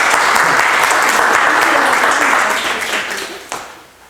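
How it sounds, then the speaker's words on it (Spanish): Audience at a scientific lecture on cosmic ray observations applauds the doctor introduced as speaker, loud sustained clapping that fades toward the end, with a brief murmur of voices. "les pido un aplauso para el doctor"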